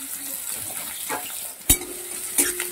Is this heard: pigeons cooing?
no